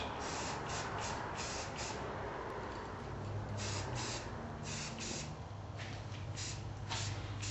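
A steady hiss of a spray gun laying a light paint tack coat on a Corvette continues throughout, with short pulsing bursts as the spray is triggered on and off at close range.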